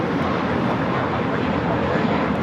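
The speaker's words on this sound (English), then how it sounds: "Japan Airlines, the 777 to 300 ER. This flight coming from Tokyo Haneda." Japan Airlines Boeing 777-300ER arriving from Tokyo Haneda at Los Angeles airport, heard as a steady, loud jet engine roar that holds broadband and even throughout.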